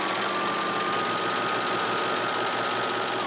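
Janome 8002D serger overlock machine stitching a rolled hem, a fast continuous mechanical whir and chatter, close and steady, with a faint high whine running through it and no talk.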